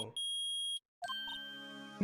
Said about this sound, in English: The metal detector found something. Sure is loud enough about it.